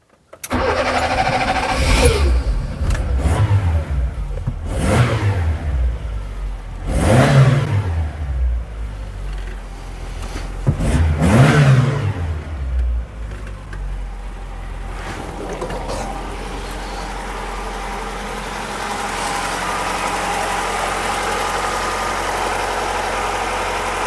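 A Wartburg 1.3 car engine cranks and catches, then revs in three strong surges that each die back down. It settles into a steady, rough idle and runs on for about ten seconds, close and loud with no talk.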